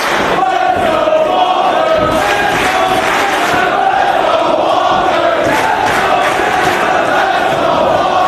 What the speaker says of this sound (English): Oh, and this crowd thought that was it.